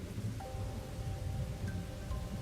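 Steady rain in the video game Rain Code, a continuous broadband hiss with low rumble, constant and fairly loud throughout, with faint tonal game ambience layered over it and no talking.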